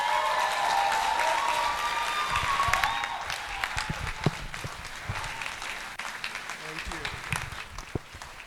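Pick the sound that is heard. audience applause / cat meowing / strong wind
audience applause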